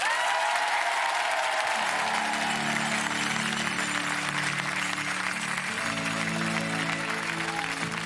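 An audience at a televised concert of hit songs applauds a singer with steady, dense clapping throughout, and music begins underneath the ovation.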